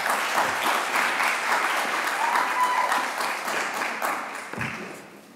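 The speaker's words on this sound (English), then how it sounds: "Vanessa Parley, please give her a round of applause." Audience applause for a speaker being welcomed to the front at a sustainable-technology conference, with steady dense clapping from the room across the whole stretch, tapering slightly near the end.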